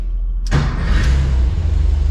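A 1973 VW Thing's air-cooled engine hot-starts with a brief crank at about half a second, then catches and settles into a loud, close, steady idle running on its own.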